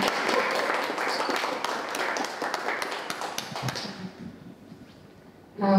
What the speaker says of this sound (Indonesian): Boleh tepuk tangannya untuk Mbak Dina?